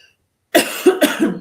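After a short silence, a close, loud cough erupts in a quick burst of two or three rough hacks.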